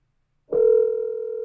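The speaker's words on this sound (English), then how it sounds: "It's ringing and there's an error message saying the recording stopped, failure because of an incoming call." An iPhone rings with an incoming call placed from a computer: a steady electronic tone starts abruptly after a short silence and holds at an even level, close and clear, with no voices.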